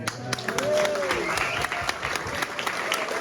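An audience at a Nick Drake gathering applauds the organiser, with scattered claps and crowd noise and a brief whoop or cheer early on.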